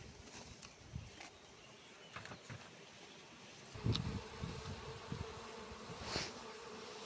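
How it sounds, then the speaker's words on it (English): Honey bees buzz around a beehive outdoors, a steady low insect hum with a few louder passes close by, and no talking. "You can see the bees with the pollen on their legs."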